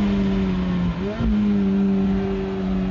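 Ferrari F430 Spider sports car with a 490-horsepower engine holding a steady idle-like hum, with a brief dip and blip around the one-second mark, heard close and continuous.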